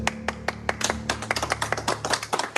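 Applause greeting a Swedish man newly declared innocent after nearly four years: sparse, distinct claps from a small group, irregular and fairly close, with a steady low hum underneath and no talking.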